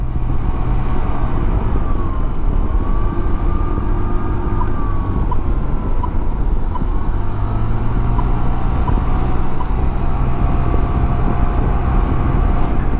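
A Yamaha C3 50cc scooter on a commute, small engine drone and steady rushing wind noise filling the whole ride, loud and continuous with no talk.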